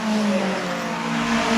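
A Porsche race car at the Pittsburgh Vintage Grand Prix roars past at speed, its engine a loud, steady high-revving drone that holds for the whole moment.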